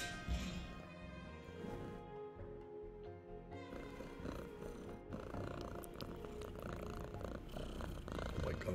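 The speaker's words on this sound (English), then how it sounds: "you're purring so loud" A pet cat purrs loudly and continuously right up close, a steady rumbling drone that stays strong throughout with no talking.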